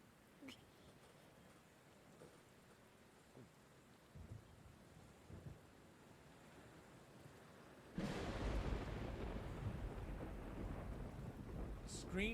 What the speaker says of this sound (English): Screen fades to white with an especially loud clap of thunder.